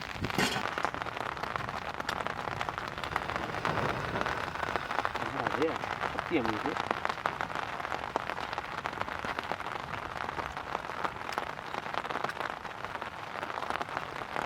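Steady, dense hiss of heavy rain pouring down throughout, with a few faint voices and clatter in the background.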